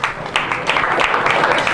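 Audience clapping fills a comedy club, a dense, steady patter of many hands that starts abruptly and holds at even loudness with no talk over it.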